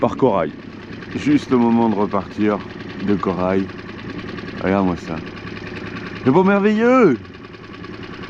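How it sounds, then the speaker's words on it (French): A dinghy outboard motor runs with a steady low drone near the coral shallows off Martinique, while someone speaks loudly over it in several bursts. "Désolé pour le bruit du moteur"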